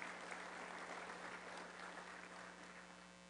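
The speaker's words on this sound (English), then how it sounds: "So let's one more time give them a round of applause." A crowd applauds steadily at a Rotary Club of Denver program, dense even clapping sustained throughout at a moderate distance, with a constant low electrical hum underneath.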